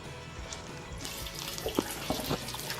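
Hot vinegar brine made with apple cider and spices is poured from close by over eggs in a jar, producing a steady watery splash with small gurgles and trickles and no talk.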